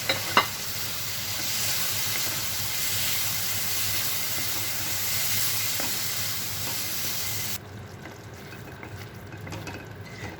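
Uncooked vegetables cooking in masala in a pan for a Quaker oats khousuey, a steady close sizzle with a small clink near the start, the frying noise dropping to a quieter hiss for the last few seconds.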